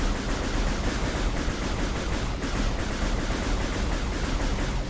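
Rapid, continuous firing from the arm cannon in Metroid Prime Remastered forms a dense, steady burst of noisy shots lasting several seconds at a moderate level, with no voices.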